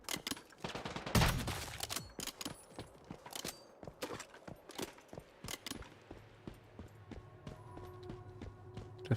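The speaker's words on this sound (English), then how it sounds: "Stop shooting." Gunfire in the video game Once Human, with sharp shots and rapid bursts cracking at irregular intervals, a loud volley early on followed by scattered quicker pops.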